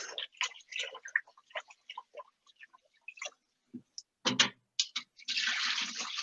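Jasmine rice is rinsed in water: soft, scattered clicks and light splashes of grains being swished, then a steady rush of running water at the end, faint and close.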